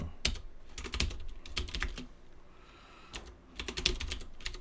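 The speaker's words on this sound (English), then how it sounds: "I'm just manually typing this in." Close-up typing on a computer keyboard during a coding session, bursts of rapid key clicks separated by short pauses, with a brief lull in the middle before another quick flurry; no one speaks.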